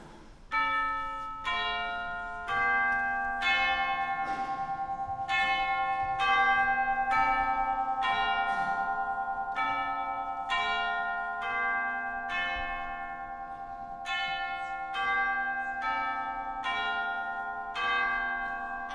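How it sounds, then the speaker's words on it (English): A bell strikes twelve during a school stage performance of A Christmas Carol, sounding slow, evenly spaced tolls, each ringing on and fading before the next, with no talking. "The bell struck 12."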